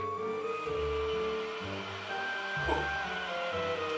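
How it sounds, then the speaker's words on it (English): A warm-air dryer built into a Japanese toilet seat at a ryokan blows with a steady, close whirring rush and a faint tonal hum throughout, and one person briefly exclaims over it. "It's like a hair dryer for your butt."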